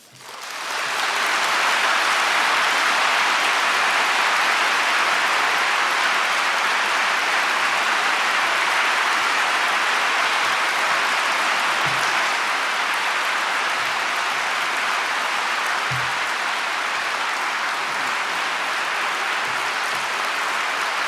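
Sustained applause from a large audience at a 2009 poetry reading in Seattle, welcoming poet Gary Snyder to the stage; dense, steady clapping fills the room loudly for about twenty seconds without letting up.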